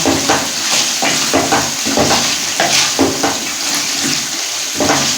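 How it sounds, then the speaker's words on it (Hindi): Black pepper is stirred into a sizzling mutton karahi, loud continuous frying hiss broken by rhythmic scraping strokes of a spoon through the meat. "और अभी हम इसमें ब्लैक पेपर ऐड करेंगे, काली मिर्चें 1 टेबल स्पून, तो इसी तरह से मिक्स करेंगे बीच में।"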